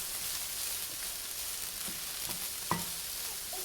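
Diced tofu and vegetables for vegan fried rice being stirred in a hot pan: continuous frying hiss with scattered soft scrapes and one sharper clink of the utensil.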